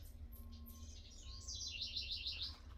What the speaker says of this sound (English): Oh, the birds are close.